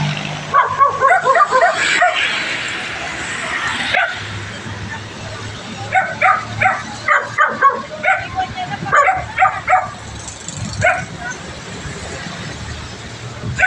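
Rescued dogs bark, yip and whimper close by in repeated short bursts. People talk, and a low engine hum runs underneath.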